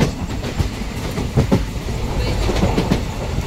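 Konkan Railway passenger train running at night, heard from on board: a continuous rolling rumble with repeated clickety-clack wheel beats over rail joints, close and steady.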